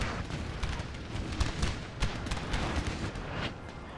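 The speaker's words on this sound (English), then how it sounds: "At least the line artillery is actually firing." Line artillery fire in Napoleon: Total War, a dense continuous barrage of booming cannon shots with sharper cracks, loud and steady without pause.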